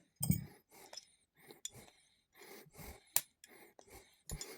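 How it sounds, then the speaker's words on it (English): Rifle bolt being taken apart, retaining clip, firing pin and cam pin pulled out: a series of small metallic clinks, scrapes and taps in short irregular bursts, close and fairly quiet, with no talking. "Then I'm going to disassemble the bolt by taking the retaining clip out of here, the firing pin, the cam pin"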